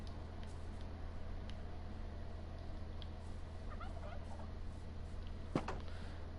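Chickens cluck faintly in a coop in the Adventure Train World video game, with a few soft, scattered calls sitting under a steady electrical hum and low background noise.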